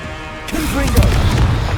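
A Confringo explosive blast spell goes off in Hogwarts Legacy, landing as a loud, dense burst of booming crashes that fills the whole clip, with an in-game voice calling out over the blast.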